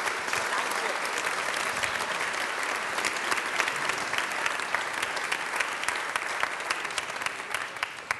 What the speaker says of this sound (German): ich darf noch einen herzlichen Applaus bitten für die Gastgeberrolle hier im Autohaus